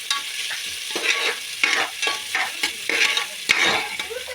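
Onions fry in ghee for a chicken biryani, sizzling steadily while a spoon stirs them in regular, scraping strokes close by.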